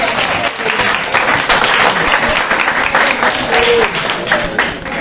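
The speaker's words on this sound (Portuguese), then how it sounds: "Precisamos de mais palmas," Sustained audience applause at a sociology lecture, a dense steady patter of many hands clapping throughout, with faint voices beneath.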